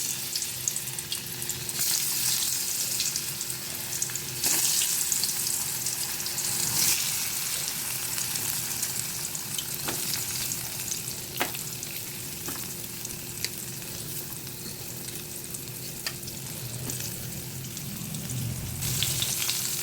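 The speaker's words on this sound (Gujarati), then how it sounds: "હિંગ નાખી અને આ ગલકા જે આપણે ભર્યા છે એમાં રાખી દઈશું." Stuffed ridge gourd sizzles in hot oil with asafoetida, a steady, close frying hiss lasting throughout, broken by occasional faint clinks and stirring sounds.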